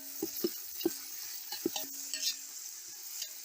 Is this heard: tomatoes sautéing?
yes